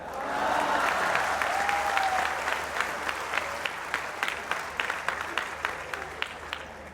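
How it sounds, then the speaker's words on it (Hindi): Audience applause at a Hindi comedy and satire poetry performance, a broad sustained clapping that gradually thins into fewer, distinct individual claps as it winds down. "इस बार आपकी तालियां उठेंगी"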